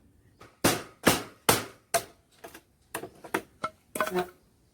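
Sharp, loud chopping strikes as wood is cut for a fish trap, ringing out one after another, about ten blows in a loose, uneven rhythm, each with a brief decay.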